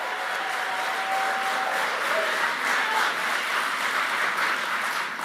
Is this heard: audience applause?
yes